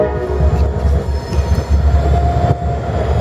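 Freight train rolling past in Fostoria, a loud continuous rumble of wheels and cars with a faint squeal of metal riding on top, close by with no voices.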